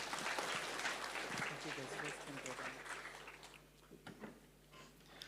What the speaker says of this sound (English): let's give a round of applause for all of our speakers